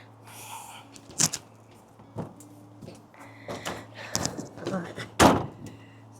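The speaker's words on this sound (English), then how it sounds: "the door's going to shut" A greenhouse door swings shut with a few knocks and rattles and a sharper thump near the end, under a person talking on a blowy day while gardening.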